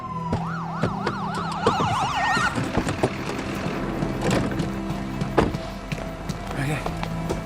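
A wailing ambulance siren sweeps up and down near the start, then fades under hurried movement and footsteps during a tense emergency scene.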